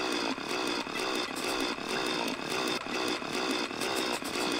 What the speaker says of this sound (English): Hear my fish chainsaw!